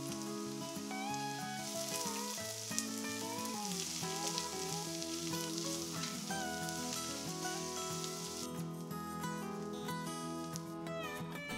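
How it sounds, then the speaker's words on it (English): Diced onions fry in hot oil in a pot, giving a steady, fairly quiet sizzle and crackle that runs throughout beneath tonal background music, with no talking. "Once the oil's hot, add your diced onions and fry until soft."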